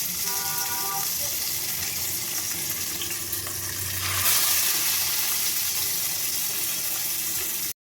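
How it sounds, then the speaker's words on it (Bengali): Hilsa fish pieces frying one at a time in hot oil, giving a steady broadband sizzle that swells briefly midway and then holds alone until an abrupt cut at the end. "এবার একটা একটা করে মাছ দিয়ে আমি ভেজে নেব"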